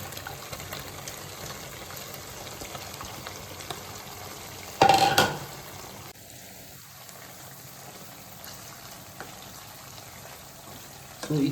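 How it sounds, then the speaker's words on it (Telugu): Chicken pieces for pickle drop into oil heated on a medium flame, setting off a sudden loud burst of sizzling that settles into a steady, quieter frying hiss. "సో ఈ చికెన్ కంప్లీట్గా ఆయిల్ ఫ్రై చేయాలి."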